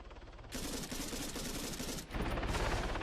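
Automatic rifle fire in the Arma 3 video game, a sustained rapid burst emptying a magazine, loud and continuous with a brief gap before a final stretch of shots.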